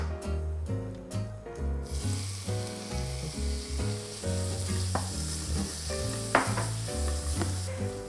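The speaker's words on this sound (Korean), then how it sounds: "이제 해물 넣고 한번 볶아봐요." Squid and shrimp sizzle and crackle as they are stir-fried with chopsticks in a hot pan for seafood japchae, with sporadic clinks and background music underneath.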